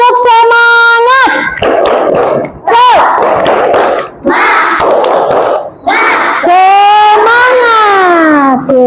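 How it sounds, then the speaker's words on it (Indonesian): A classroom of pupils in Indonesia chanting the rhythmic tepuk semangat clap chant with their teacher, loud shouted voices alternating with bursts of clapping, close and energetic, with a final drawn-out cheer. "kita tepuk semangat dulu ya."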